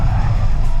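A Mercedes-AMG GT63 S E-Performance hybrid in rear-drive drift mode gives a brief, loud, close burst of deep engine roar lasting under a second, with no voices.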